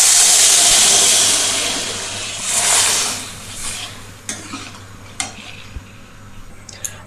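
Water poured into a pan of Bengali katla fish curry cooked in sesame oil, a loud steaming hiss that fades into softer bubbling, followed by a few sharp clinks of a utensil against the pan.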